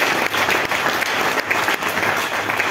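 A church congregation claps hands together in steady, rhythmic unison, loud and close with a regular pulse of beats throughout and no talking over it.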